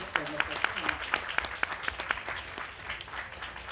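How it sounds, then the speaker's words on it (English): A conference audience at a farmers' event claps, with a regular series of sharp claps close by over softer scattered applause, all fading toward the end. "Let's give it a warm applause anyway for assisting with this conference."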